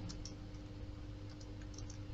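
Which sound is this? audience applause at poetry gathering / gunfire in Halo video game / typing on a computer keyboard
typing on a computer keyboard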